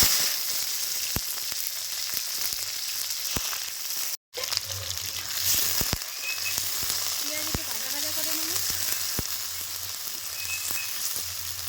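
Sliced onions sizzle steadily in hot oil seasoned with a pinch of sugar, cumin and salt. The frying runs close and continuous, with scattered sharp pops and ticks throughout.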